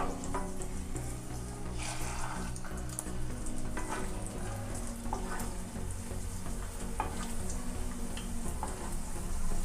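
Egg Mughlai paratha frying in oil over a medium flame, giving a steady, dense sizzle with crackling pops throughout and no voices.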